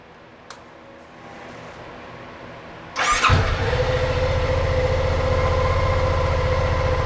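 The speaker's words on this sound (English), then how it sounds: "we're gonna start the bike." After a few quiet seconds, an off-road motorcycle fires up abruptly and settles into a steady, loud, close idle that carries on to the end.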